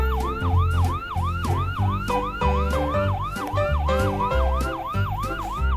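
A toy ambulance siren wails in a rapid, repeating electronic yelp, loud and close, with a steady pulsing beat underneath.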